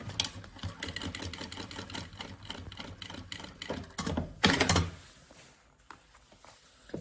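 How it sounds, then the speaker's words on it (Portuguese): A sewing machine stitches a seam close to the edge of synthetic fabric for a bunny backpack, running in quick rhythmic bursts of stitching, close and steady, with a short louder flurry near the end and no voices. "vamos colocar o nosso sintético virado para baixo, vamos fazer uma costurinha à beirinha"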